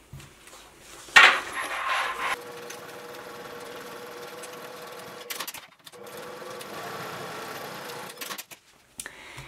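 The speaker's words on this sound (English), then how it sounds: "take this over to your sewing machine and top stitch both of the ends of the strap in place" A sewing machine top-stitches the ends of a bag strap in steady stretches, its motor whirring with a fast stitching chatter, pausing briefly between runs, after a sharp clatter near the start.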